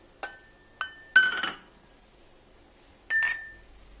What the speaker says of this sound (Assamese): জালুককেইটা খুন্দনাতে খুন্দি লওঁ।